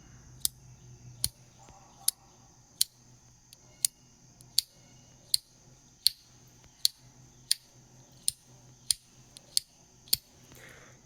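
A Rite in the Rain No. BK16 bolt action pen clicks about fifteen times at a steady pace, each snap sharp and springy, close up and alone against a quiet background.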